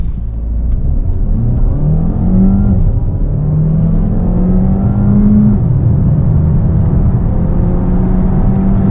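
Peugeot 408 GT hybrid with 224 hp accelerating hard in Sport mode, a loud, steady engine drone that climbs in pitch through the gears over about nine seconds, close-up from inside the cabin.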